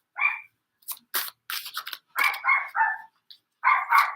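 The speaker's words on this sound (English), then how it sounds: "he has to bark at everything." A small part-Chihuahua dog lets out a string of sharp, high yips and barks, close and loud, in irregular bursts with brief pauses between them.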